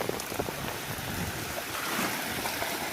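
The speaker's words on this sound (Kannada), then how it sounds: "ಇಲ್ಲೊಂದು ಸಣ್ಣ ದೊಣ್ಣೆ ಫಾಲ್ಸ್ ಇದೆ" A small waterfall on a river rushes in a steady, broadband wash of falling water, close and fairly loud, with no voices.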